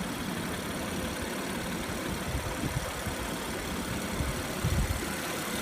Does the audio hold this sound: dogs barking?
no